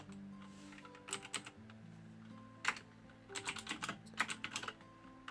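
Bursts of keystrokes on a computer keyboard while C++ code is typed, with irregular clusters of crisp close-up clicks separated by short pauses over a low steady hum.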